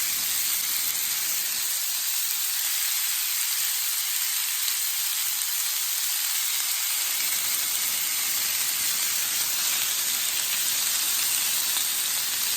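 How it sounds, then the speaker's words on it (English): Continuous hissing sizzle of beef searing in a hot pan for beef stroganoff, steady and close, with no voices. "we're getting some sizzle on the meat."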